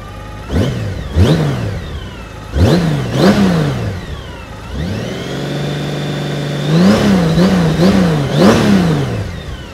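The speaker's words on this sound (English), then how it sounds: "Sounds beautiful. Smooth and quiet. 6-cylinder boxer engine." Honda Gold Wing GL1800 six-cylinder boxer engine on a low-mileage, like-new motorcycle, revved in repeated short blips from idle, then held at a steady raised idle before several more quick revs, smooth and close with no talk.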